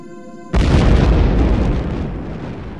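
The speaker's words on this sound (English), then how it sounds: "These awesome explosions project matter at speeds one-tenth that of light" A supernova explosion sound effect: a deep, loud boom erupts suddenly after a faint tonal hum, then rumbles on and slowly fades.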